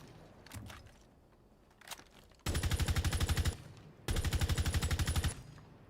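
Automatic gunfire from a video game gun, two rapid sustained bursts of about a second each, loud and close, following quieter shuffling and faint game noise.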